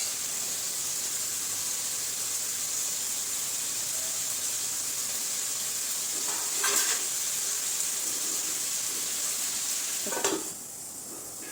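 Duck meat sizzles and fries steadily in a pan over a gas flame, a constant bright hiss with a couple of brief stirring clinks near the end.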